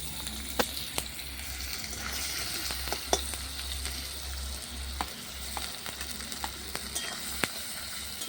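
Onion frying in white oil in a wok over a clay stove, a steady close sizzle with scattered sharp crackles and spatula clicks throughout.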